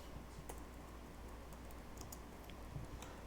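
Typing on a computer keyboard in a quiet room, a faint run of irregular soft key clicks with no talk.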